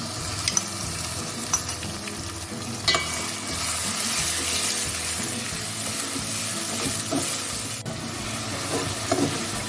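Ginger, garlic, green chili and coriander paste frying in a pan for Bangladeshi bhuna gosht, with steady close sizzling and intermittent stirring scrapes throughout.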